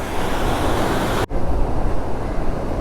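Sea waves roll onto a rocky shore with a loud, continuous surf roar and wind rush, and there is a brief dropout partway through.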